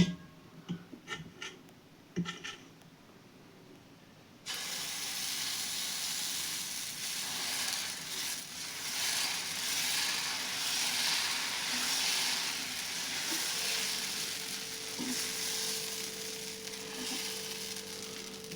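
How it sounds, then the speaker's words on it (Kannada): A few light taps and scrapes come first, then dosa batter hits a hot pan and a loud, steady hiss of sizzling builds and continues to the end, with no talking. "ದೋಸೆ ಹಾಕ್ತೇನೆ ನೋಡ್ರಿ"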